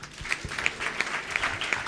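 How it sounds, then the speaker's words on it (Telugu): A church congregation at Sunday worship claps steadily and fairly loudly, with regular rhythmic claps standing out above a dense wash of applause. "కొట్టండి గట్టిగా చప్పట్లు."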